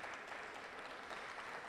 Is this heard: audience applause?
yes